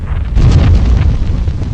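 Series of internal explosions inside a glowing alien sphere, a sound effect in a Star Trek audiobook: a loud, deep rumbling boom that swells and rolls on for nearly two seconds with no voice over it.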